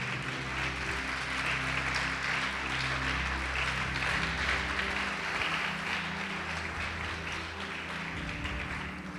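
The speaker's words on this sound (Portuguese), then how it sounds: "Quem crê nisso pode aplaudir o Senhor Jesus." A church congregation applauds steadily for several seconds, a dense wash of clapping over a sustained low musical hum from the sanctuary.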